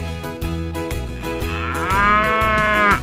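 Cartoon-style ox lowing in a children's color-learning song, a drawn-out, tonal moo that swells and rises toward the end, heard over bright music.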